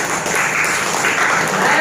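Audience applause fills a seminar on a business opportunity in Indonesia, a dense steady wash of clapping that holds for the whole stretch with faint voices mixed underneath.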